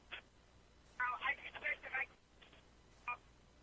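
Telephone handset being picked up and dialed over a call-in radio line, a short burst of keypad tones and beeps, faint and thin within a quiet line.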